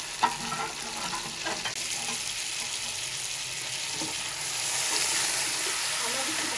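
Boiled salted mutton frying in a pan with garam masala, a continuous close sizzle broken by a few scraping stirs early on, the hiss swelling slightly louder toward the end.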